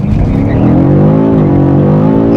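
A 2023 BMW M5 CS launches under launch control in manual mode with four-wheel drive and DSC off, its engine roaring loudly and climbing steadily in pitch as it accelerates hard, close and alone.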